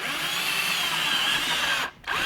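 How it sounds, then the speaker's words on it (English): A power drill bores a few small ventilation holes into a container for growing emersed Bucephalandra, a steady close whine that breaks off briefly before restarting. "I'm just going to drill a couple holes"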